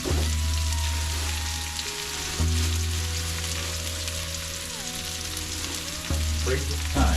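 Onions, garlic and a little hot chili fry in oil in a pan, giving a close, steady crackling sizzle with a few stirring scrapes and a low hum underneath.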